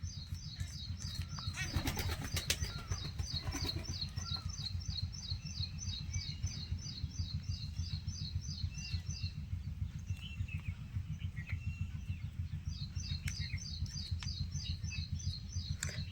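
Newly brought pigeons shuffle about and flap their wings in a loft, bursts of flapping near the start over a steady low hum, while small birds chirp in rapid repeated runs in the background.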